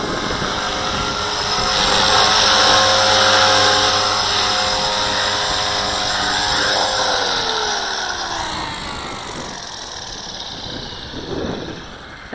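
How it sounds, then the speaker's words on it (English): A V450D01 RC 3D helicopter's high-pitched whining rotor and motor hum steadily nearby in windy conditions, then spin down and fade as the blades slow. "It's a really good 3D helicopter for starting off."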